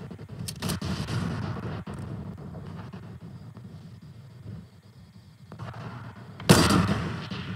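Explosions in a battle royale video game, a few sharp bursts early and a loud blast near the end over a steady rumbling game soundscape.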